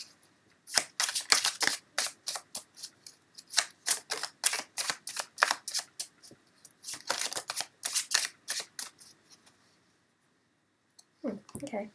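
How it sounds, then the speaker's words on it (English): Quick crisp flutters and snaps of tarot cards being shuffled close by, in clustered bursts with brief pauses, ending in softer handling and a murmured voice. "Let's try and shuffle again."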